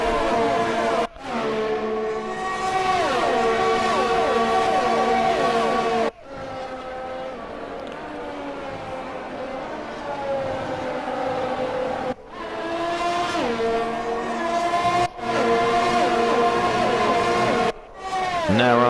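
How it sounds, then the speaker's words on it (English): Formula 1 cars racing at the Italian Grand Prix in the F1 2020 video game, loud high-pitched engine whine rising and falling through repeated gear shifts, with brief cuts between passes. "Gee, I love the sound of these cars."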